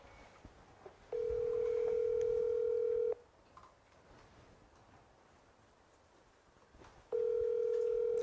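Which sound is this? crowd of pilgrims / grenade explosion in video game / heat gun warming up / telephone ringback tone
telephone ringback tone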